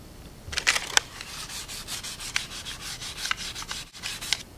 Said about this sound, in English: go ahead and sand the overall surface of the tunnel with some fine grit sandpaper